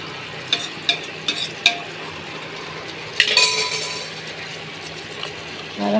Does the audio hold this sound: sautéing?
yes